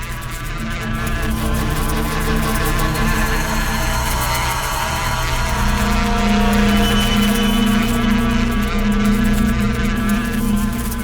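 Honeybees swarm around a disturbed beehive, their dense buzzing forming a loud, continuous droning hum that fills the scene without pause.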